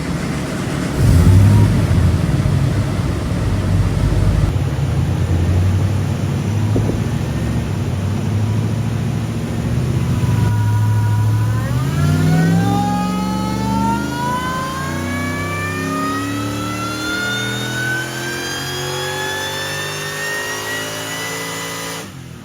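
A 600-horsepower supercharged Nissan Patrol engine idles with a steady drone, then revs sharply and climbs through rising RPM during a run, loud and close with no talk.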